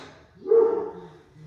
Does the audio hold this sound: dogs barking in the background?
yes